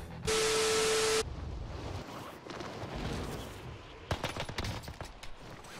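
Whitley assault rifle fire in the video game Warzone: a harsh burst of static opens the clip, then a short quieter stretch, and a quick string of sharp, close rifle shots crackles near the end.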